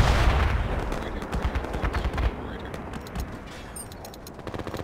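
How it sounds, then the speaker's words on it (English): Rapid gunfire and mortar blasts in the military shooter game Project Reality, a dense burst of shots with deeper thuds up front, thinning into scattered distant pops. "Keep firing mortars, keep firing mortars."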